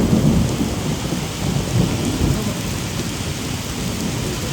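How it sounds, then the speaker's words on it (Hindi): Heavy rain with large hailstones pounds down outdoors during a storm in Dehradun, India, a loud, close, steady roar of downpour with no talking. "बहुत तेज बारिश आ रही है भाई, बहुत तेज। ये देखो ओले कितने मोटे हैं"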